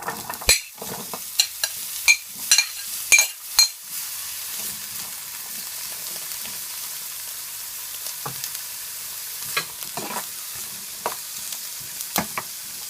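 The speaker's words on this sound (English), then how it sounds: "It is hot, so now I'm gonna add all my herbs." Herbs sizzle in hot vegetable oil in a pot, a steady low fry broken by sharp clinks and stirring scrapes early on, then a quieter hiss with occasional soft knocks.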